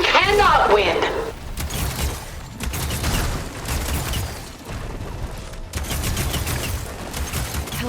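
Weapon fire in the video game Horizon Forbidden West during a boss fight with a large machine: repeated bursts of booming, crackling shots and mechanical impacts, loud and close, with a character's voice speaking near the start.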